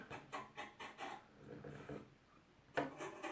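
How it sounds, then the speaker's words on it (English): Snow stuck on a car being scraped off at a Finnish ski resort area, a series of rhythmic rasping strokes, fairly close and quiet, with a louder scrape near the end. "we got to scrape that snow that's stuck"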